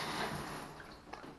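Shower water running from a faucet that is being repaired for a leak, a soft continuous hiss and spatter with a few faint drips near the end.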